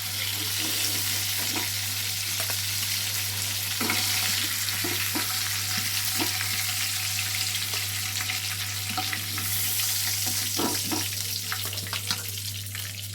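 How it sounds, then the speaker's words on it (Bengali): Fish shallow frying in a pan sputter with a continuous loud sizzle and a dense hiss of crackling oil, plus a few soft clinks, and no talking. "বাকি মাছগুলোকে ফ্রাই করে নেব।"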